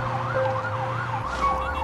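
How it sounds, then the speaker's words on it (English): A wailing police siren from the video game Police Simulator cycles up and down steadily over a low engine rumble, close and continuous throughout. "I know you hear these sirens!"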